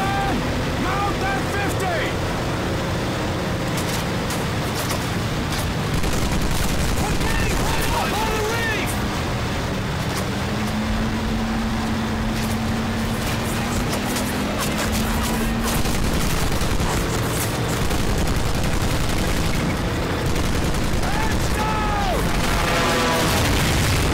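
Gunfire and distant booms rumble through a Pacific Assault battle at Pearl Harbor in Medal of Honor, a dense, continuous wash of shots and blasts with boat engines droning underneath.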